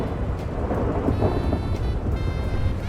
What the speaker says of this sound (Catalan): Que no l'escolto amb tanta pluja